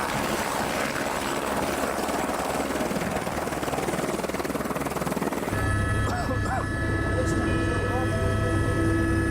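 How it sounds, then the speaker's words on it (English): A helicopter arrives at Everest base camp, its rotor thumping loud and steady throughout; partway through the whine shifts, the low throb grows stronger and a high turbine tone comes through as it closes in. "Then another helicopter gets through."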